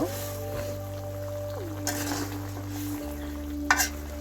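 Radish and fish curry stirred in a pan, a soft simmering sizzle with a few scraping stirs and a sharp clink near the end, over a steady humming tone from a nearby appliance.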